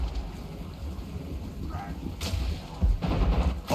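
Breaker cannons open fire in a Total War: Warhammer 3 battle, with several heavy booming blasts, two grouped near the end, rising over a rumbling battlefield ambience.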